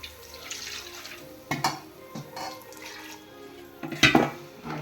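Water pours and splashes into a pot of fish curry at close range, with a couple of sharp clinks of metal.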